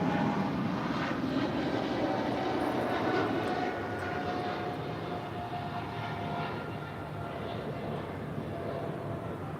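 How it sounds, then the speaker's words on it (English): A Japan Airlines Boeing 777-300ER departs LAX, its engines a loud, continuous broadband roar that eases slightly partway through as the jet climbs away. "That is Japan Airlines Flight 15 departing to Tokyo Haneda on the 777-300ER."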